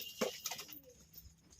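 Pigeons in a coop give a few short soft coos and flutters, faint and close, over quiet background.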